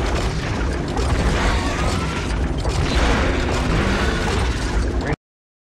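Dense, continuous barrage of blaster fire and explosions in the Lego Star Wars Skywalker Saga video game, loud booms and crackling bursts layered throughout before an abrupt cut to silence.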